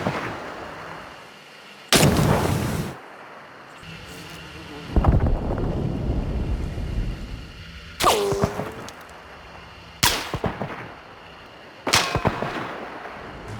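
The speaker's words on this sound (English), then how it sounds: "a gunshot ecosystem for a more authentic depiction of gunfire and explosions" Scattered booming gunshots and explosions from Hunt: Showdown roll in from a distance, about five sharp cracks with long echoing tails over a breezy outdoor ambience, no talk.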